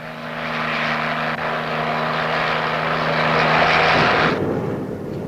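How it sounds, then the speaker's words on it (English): Army utility helicopter flying, a loud sustained engine and rotor drone with steady tonal whine that swells slightly as it passes, then drops away near the end. "the versatile helicopter, a rugged workhorse with tremendous lift capacity"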